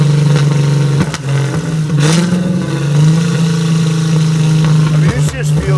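Supercharged LS9 V8 in a 1967 Chevy Nova revving hard and close, a loud steady engine drone with brief dips and surges, while people talk over it.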